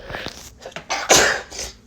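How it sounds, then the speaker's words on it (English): A single sneeze, with a sharp breathy intake building into a loud burst, heard close and alone. "Now I'm about to sneeze."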